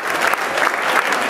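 Audience claps in a brief, dense burst of applause, loud and even from start to finish with a faint crowd murmur underneath.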